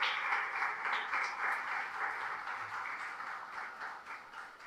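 A church congregation applauds during a sermon, a sustained, fairly faint wash of many hands clapping with a steady roll, heard from some distance with no talk over it.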